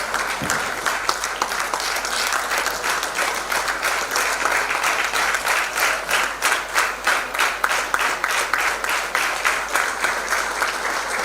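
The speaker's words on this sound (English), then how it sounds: "Please welcome Honorable Minister Smt Nirmala Sitharaman with a huge round of applause." Audience at a formal chamber of commerce program applauding to welcome a government minister: dense, sustained clapping from a large crowd that holds steady and loud throughout, with individual claps faintly audible in the wash.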